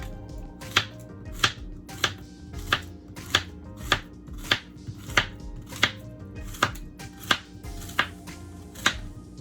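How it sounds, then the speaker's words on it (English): A knife chops green plantain into small pieces on a board, about sixteen crisp, evenly spaced strikes in a steady rhythm, close and clear with no talking. "And I cut it up in small pieces so it could help blend faster"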